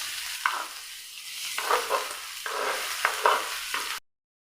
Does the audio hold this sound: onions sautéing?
yes